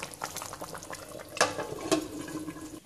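Chicken curry simmering under a lid on low heat on a stove: soft, continuous bubbling and light liquid burbles at low level, with a couple of brief clinks, no voices.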